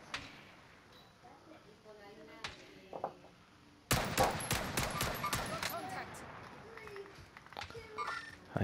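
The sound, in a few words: gunfire in Warzone video game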